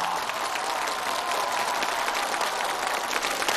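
A television studio audience claps steadily and energetically throughout, a dense, even wash of applause for a climbing athlete on a challenge show.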